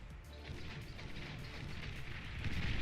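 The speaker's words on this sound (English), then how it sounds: "Very nice bombing run." Bombers making a bombing run in the real-time strategy game Beyond All Reason: a quiet, continuous rumble of crashing and distant artillery-like impacts that swells slightly toward the end.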